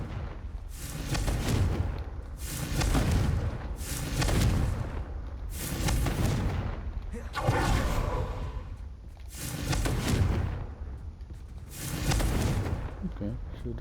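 Confringo blasting spells go off in Hogwarts Legacy, a loud, regular series of about seven booming fiery explosions, each swelling and fading every couple of seconds.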